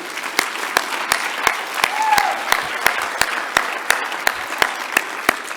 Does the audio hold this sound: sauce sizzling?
no